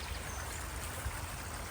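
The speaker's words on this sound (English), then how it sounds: "Now there's a lovely stream and waterfall" A stream and small waterfall on the Wales coast near Porthcawl gives a continuous, faint rushing babble of flowing water, steady with no voices.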